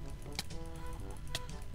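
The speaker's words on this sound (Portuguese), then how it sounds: "Nossa, tem um monte de galinha aqui." Chickens in the Minecraft video game give soft clucks, with two sharp clicks in the middle and a faint background hum, quiet throughout.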